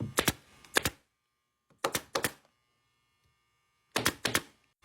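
Shears cutting pontoon boat seat upholstery, three separate pairs of sharp crunchy snips close by, spaced apart by quiet hum.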